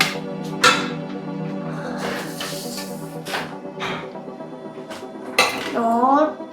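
Food being turned over in the basket of a Xiaomi 3.5L air fryer, with a few sharp metallic clinks and scrapes of utensil against the nonstick basket over faint background hum, and a brief voice passing near the end.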